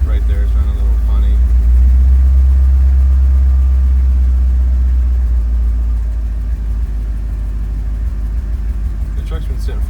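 A Ford F-250 truck that has sat unused idles roughly with a misfire, a loud, low, steady engine rumble with slight unevenness that eases off toward the end.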